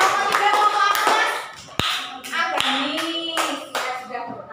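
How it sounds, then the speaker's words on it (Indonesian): Classroom applause for a student group, a burst of scattered hand claps from a class that fades out, then a few more claps as people talk over it. "tepuk tangan untuk kelompok 3"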